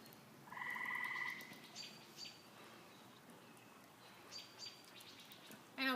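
Outdoors beside a small campfire at a house in the woods, a loud buzzy croaking call rings out briefly, followed by scattered faint chirps and bird calls against a quiet background.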